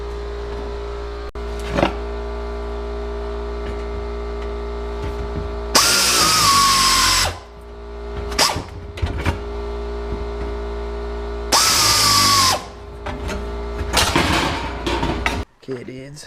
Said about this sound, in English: Just cutting some patches to shave the marker lights on the duster.